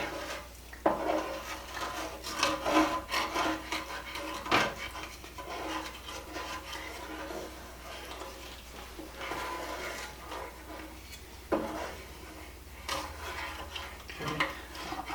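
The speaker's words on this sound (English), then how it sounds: "I'm going to stir it around and get all the little scrapings off the bottom of the pan" Scraping and stirring across the bottom of a pan while making Monterey chicken, a dry rubbing rasp with a few sharper knocks of the utensil against the pan, close and fairly quiet, no talking.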